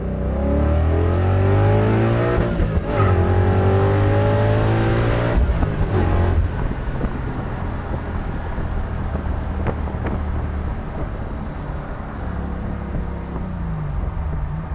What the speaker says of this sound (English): it's just so much quieter than a modular motor without the variable cam timing